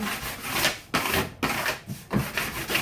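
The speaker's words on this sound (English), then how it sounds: "I'm going to grab my presser here, and then you're just going to press it real good over the whole thing." A presser rubbed firmly across a vinyl stencil on a wooden pallet sign, with several close, rhythmic scraping strokes and short pauses between them.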